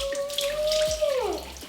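Water poured over hair during washing, a steady splashing pour with a faint ringing tone, close and uninterrupted.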